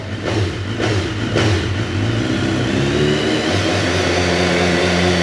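A 2019 BMW S1000R motorcycle with an Akrapovic slip-on exhaust revs quickly a few times, then settles into a loud, steady engine note close to the bike with no talk.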